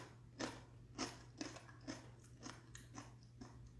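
Crunchy almond crackers are bitten and chewed in a close, quiet kitchen, about eight crisp crunches coming in a steady rhythm over a low hum.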